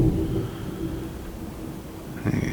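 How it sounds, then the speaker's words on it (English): Low, distant thunder rumbling steadily in the background through a thunderstorm day, soft and continuous with a slight swell near the end. "You hear the thunder in the background."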